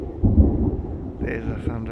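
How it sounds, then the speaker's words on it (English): Thunder from a night lightning storm, a short deep rumble swelling and rolling over about two seconds, fairly loud and close, with brief vocal sounds over it. "There's the thunder."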